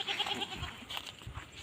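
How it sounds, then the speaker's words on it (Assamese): A goat bleats faintly, with a short quavering call near the start and softer animal sounds after, quiet and close with no other noise. "ছাগলীজনী"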